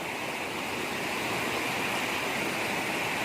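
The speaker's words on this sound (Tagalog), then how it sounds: "Medyo may kalakasan ang tubig." Strong, steady rushing water fills the scene, a loud continuous roar like a fast stream or small waterfall close by, with no voices.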